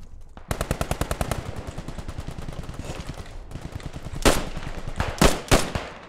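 Machine-gun fire rattles in the WWII shooter Post Scriptum in Carentan, a long rapid close burst of shots, then a pause followed by several louder, heavier single reports.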